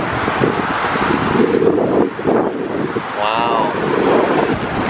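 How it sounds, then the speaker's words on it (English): Big waves breaking on a Chicago beach with strong wind buffeting the microphone, a steady loud roar of surf and gusts throughout, with people talking and exclaiming over it. "The waves are so big right now."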